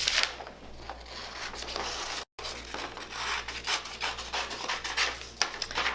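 Scissors cut out a paper circle traced from a cake plate, giving close, continuous rasping snips and rubbing strokes with a short pause midway.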